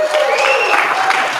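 An audience claps together in a brief, dense burst of applause at a National Law Enforcement Officer Hall of Fame event, filling the room for just over a second.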